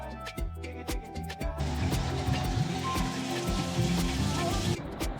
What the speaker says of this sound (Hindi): जब हमने बाहर निकल के देखा तो इतनी तेज़ बारिश हो रही थी